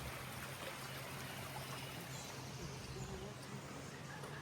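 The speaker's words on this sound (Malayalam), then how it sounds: "അത് വെള്ളം ഒഴുകുന്നുണ്ടെന്ന് തോന്നുന്നു ശബ്ദം കേട്ടിട്ട്" A stream of water flowing near a waterfall on a trip in Hungary, heard as a faint, continuous, even rushing wash over a low steady hum.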